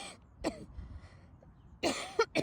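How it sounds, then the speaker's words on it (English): A woman coughs outdoors by a pond, a few short throaty coughs and throat clearings spaced across a couple of seconds, close and fairly loud against quiet background. "I'm gonna cough again."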